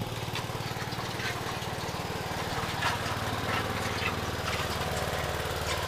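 A screw drive off-road vehicle runs forward in second gear, its engine giving a steady, fairly loud throbbing drone with a low, regular pulse and some rattling from the drivetrain, no one speaking.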